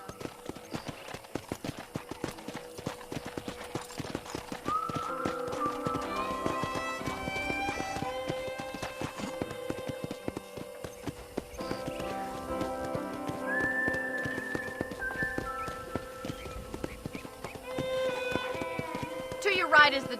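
Horse ridden at a ranch in Red Dead Redemption, with a steady clip-clop of hooves and occasional whinnies heard under game music and spoken dialogue.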